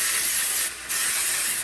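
Baker's Joy baking spray blasting onto muffin pans in a home kitchen: a steady close hiss lasting over a second, broken by one brief pause before the spray resumes.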